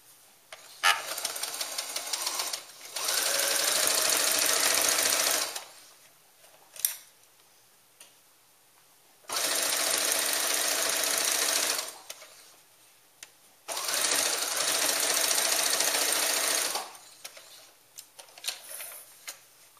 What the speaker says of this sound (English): Okay, so we're going to start our sewing.